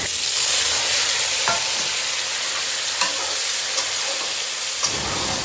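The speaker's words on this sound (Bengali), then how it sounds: "পেঁয়াজ, রসুন এগুলো একসাথে সুন্দর করে ফ্রাই করে নিব।" Onion and garlic frying in a pan while being stirred, a loud, steady, close sizzle with a few light scrapes of the spoon, no talking.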